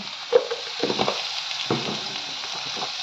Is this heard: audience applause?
no